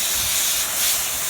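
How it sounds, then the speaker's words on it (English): Steady hose spray of water washing gunk off air conditioner parts during A/C maintenance, a continuous loud broadband hiss with no pauses. "So what I normally do is I just take it and I just spray it off."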